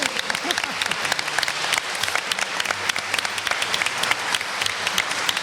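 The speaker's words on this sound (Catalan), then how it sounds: "aplaudiments, sisplau" A crowd at a Catalan radio gathering in Cervera claps for host Pepa Fernández, a steady mass of overlapping handclaps at moderate volume with sharper individual claps popping out.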